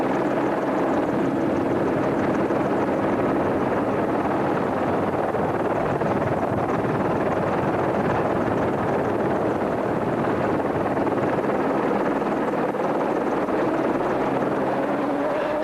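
Loud, continuous TV helicopter rotor drone with buffeting wind noise, filming the 2003 Sun City 400 off-road race from above, steady throughout with no voices.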